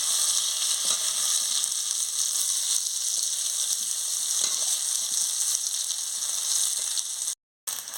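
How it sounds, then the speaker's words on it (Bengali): Boiled potatoes fry in hot oil in a home village kitchen, giving a steady, crackling sizzle close by that continues without a break until a brief cut near the end. "আলুটাকে লাল লাল করে আমি ভেজে নিচ্ছি"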